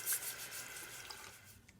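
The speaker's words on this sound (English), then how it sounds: "I'm going to use a toothbrush here just to kind of scrape" A toothbrush scrubs rust dissolver jelly off a metal part, giving a soft, steady bristle rubbing close up, with quick faint strokes and no voices.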